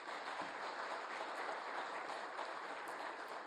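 A church congregation gives applause for volunteer teachers at an afternoon service, a steady, even patter of many hands clapping at moderate distance, sustained throughout without talk.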